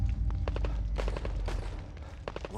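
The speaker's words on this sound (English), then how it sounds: "where's the automatic gunfire coming from?" Rapid bursts of automatic gunfire in The Evil Within 2 crackle in quick succession over a deep rumbling background, dense and continuous with sharp repeated reports.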